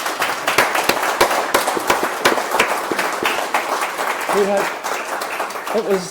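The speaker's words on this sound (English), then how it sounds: "give them a clap" An audience at a gallery talk with photographers gives a burst of applause, with dense, close clapping running throughout and voices heard over it.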